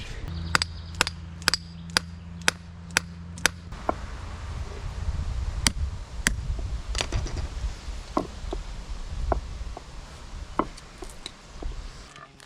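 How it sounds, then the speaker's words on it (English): A hammer knocks an old wooden handle piece out of a sledgehammer head, about ten sharp evenly spaced metallic strikes at first, then scattered irregular blows against a low background hum, loud and close. "now that we got the head off, we're going to knock that piece out"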